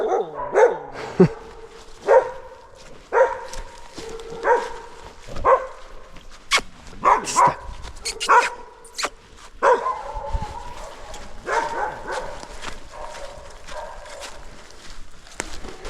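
Dogs bark repeatedly nearby in short bursts, one after another, with occasional clattering and shuffling noises between the barks.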